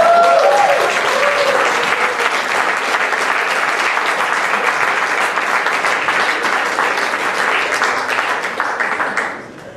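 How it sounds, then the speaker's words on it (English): Audience at a cabaret show in Wellington applauding, a loud, sustained sheet of clapping from a packed room that holds steady and then fades out abruptly at the very end. "Just clap away."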